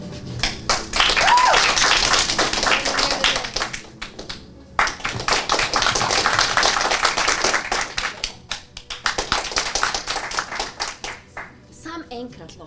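A live improv theatre audience doing a telenovela show claps to vote for a romantic lead, loud sustained applause that stops, starts again and then breaks into scattered claps, with a voice and some chatter over it.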